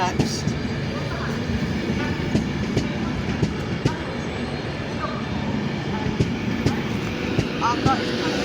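Class 390 Pendolino electric train passing through Birmingham International station, a steady broad rumble with wheel clatter throughout, close and fairly loud, with faint speech and small tonal squeals near the end.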